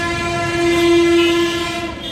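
A train horn blares in one long, loud, sustained blast close by, over the rumble of the moving train.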